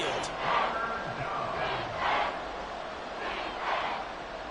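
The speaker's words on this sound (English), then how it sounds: "The Arrowhead crowd in full roar." A big crowd at Arrowhead Stadium during an American football game roars in steady rolling swells, distant and dense throughout with no clear single voices.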